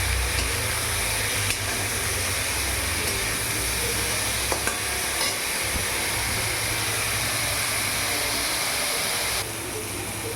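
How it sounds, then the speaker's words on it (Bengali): Sliced pointed gourd (potol) frying in a pan with oil and turmeric, giving a steady, even sizzle and hiss that carries on unbroken, with a couple of faint stirring clicks and no talking. "এবার পটলটা আমি একটু ভাজা ভাজা করে নেব।"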